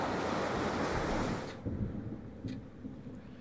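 Storm wind and crashing waves in the horror video game At Dead of Night, a loud rushing roar that cuts off abruptly partway through, leaving a quieter rumble.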